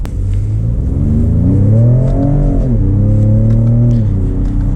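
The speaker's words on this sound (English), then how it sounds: "you can see it accelerates so quickly in those upshifts" A 2020 Ford Raptor truck accelerates hard, its engine note climbing in pitch and dropping sharply at each upshift, loud and close with no voices.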